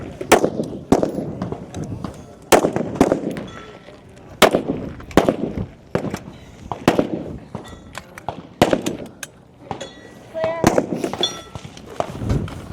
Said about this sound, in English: Also at the firing line, Jordan Sessions.